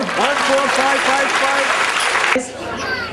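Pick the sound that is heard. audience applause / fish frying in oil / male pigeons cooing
audience applause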